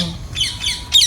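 A pet parrot gives loud, harsh squawks close by, several rapid raspy calls in quick succession, ending with a sharper cry.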